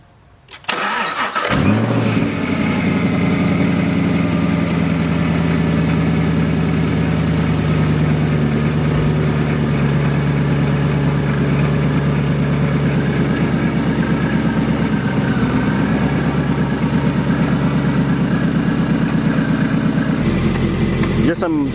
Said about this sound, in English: We'll go ahead and fire this thing up and let's take it for a ride.